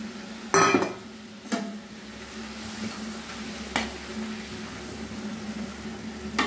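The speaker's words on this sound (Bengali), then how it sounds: "ঝোল ফুটে গেছে, এবার মাছগুলো দিয়ে দিলাম।" Pabda fish going into a boiling curry sauce in a pan, with a sharp splash and clatter at first, then a few soft knocks over a low, steady bubbling sizzle, with no talking.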